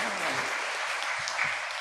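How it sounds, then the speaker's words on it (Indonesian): Church congregation applauding during a Sunday worship service, a steady wash of clapping held at even loudness for under two seconds, with faint voices mixed underneath. "kita berikan tepuk tangan untuk Pak Agus dan Ibu Kadek"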